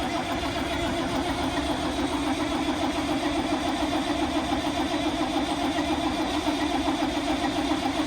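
A David Brown tractor engine running close by, a loud, continuous, even mechanical drone that holds steady throughout without clear rises in pitch.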